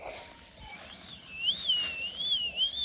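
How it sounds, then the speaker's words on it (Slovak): A person whistles a wavering high tone that rises and falls in short looping swoops, fairly close and clear against quiet outdoor background. "Nepískaj, prosím ťa."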